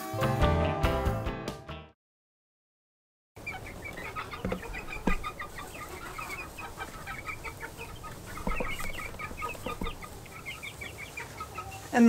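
Chickens and young roosters cluck and murmur around a dry covered spot in the yard, scattered close and mid-distance calls over a low background, following a brief burst of music and a short silence.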